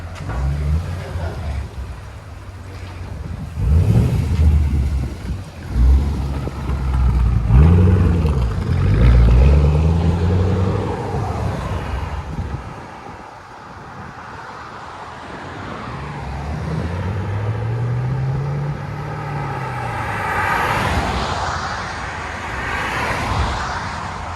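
A black 2014 Chevy Camaro SS with the 6.2L LS3 V8 and a Borla ATAK cat-back dual exhaust revs up and falls back several times, a deep, loud, close growl that rises and falls, then settles toward idle.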